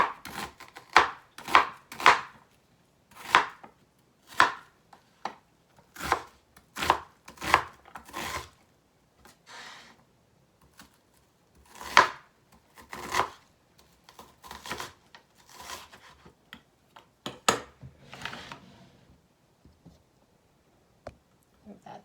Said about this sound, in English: I'm going to go ahead and dice up some of our onion.